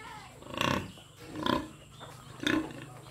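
Pigs on a rural farm squeal in three loud, rough bursts about a second apart, rising out of steady low background noise with no talking.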